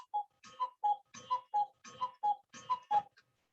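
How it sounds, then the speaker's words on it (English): A cuckoo clock ticks in a steady, even tick-tock rhythm, with about ten clear, slightly ringing beats, faint and close with nothing else heard. "That was my cuckoo clock you might have heard that bought in Passau, Germany on a Danube cruise"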